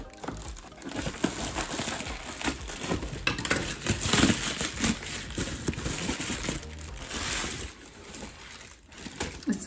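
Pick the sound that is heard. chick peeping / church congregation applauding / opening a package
opening a package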